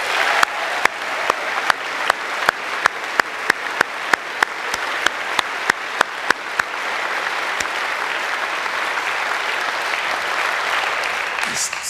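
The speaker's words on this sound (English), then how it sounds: "So can we give them a round of applause?" Audience at a University of York graduation ceremony in a large hall claps: sharp, regular strikes at first, then dense sustained applause filling the room, loud and close.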